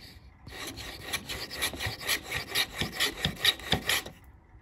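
A wooden spacecraft cockpit piece is beveled by hand, with about a dozen rhythmic rasping strokes of rubbing and filing against the wood, close and fairly steady.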